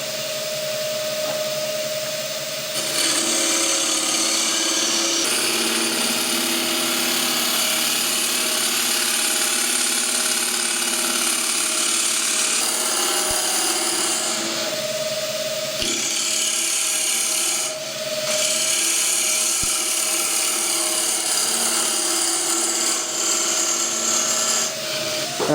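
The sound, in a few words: wood lathe hollowing a green timber bowl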